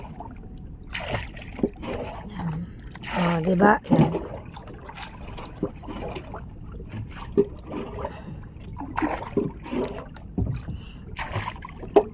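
Water scooped and splashed out of an old wooden fishing boat, a run of sloshing, trickling pours near at hand, mixed with knocks on the hull and someone talking intermittently.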